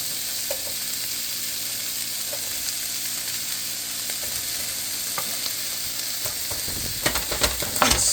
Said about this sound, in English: So I'm going to break apart the onions with the spatula right now